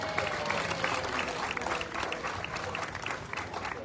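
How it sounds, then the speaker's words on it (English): Audience applause at an apple festival presentation ceremony, a moderately faint, sustained patter of many hands clapping that fills the whole stretch and fades a little toward the end. "give John another big round of applause"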